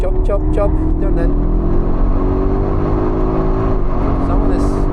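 A BMW X5 M SUV engine revs and accelerates with a rising tone, close and loud, on the Nürburgring, with brief voices or chirps near the start.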